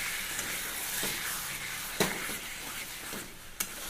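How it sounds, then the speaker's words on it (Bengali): Lightly fried meat added to sizzling spice masala, giving a continuous loud frying hiss with a few sharp clinks of a stirring utensil against the pan, no speech. "এবারে যে মাংসগুলো হালকা ভেজে রেখেছিলাম এগুলো দিয়ে দেবো"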